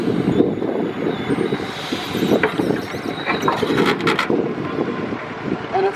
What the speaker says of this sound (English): Stowing the boom back into its cradle, we must make sure that we line the boom up with the cradle position